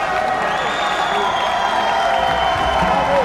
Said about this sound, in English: The crowd just comes to life.